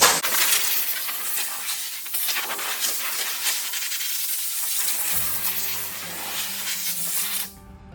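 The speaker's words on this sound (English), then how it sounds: "take your blower and blow off your panel" A steady blast from an air blower hisses continuously for several seconds, close and loud, blowing dust off a new panel being prepped for paint; a low mechanical hum joins near the end before it cuts off.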